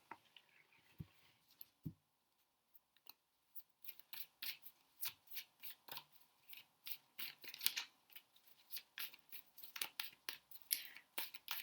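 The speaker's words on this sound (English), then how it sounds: "Let's pull some tarot cards." Tarot cards are shuffled by hand, making a quiet run of rhythmic papery riffles and slaps that grows steadier and denser toward the end, with faint breathy sounds in the background.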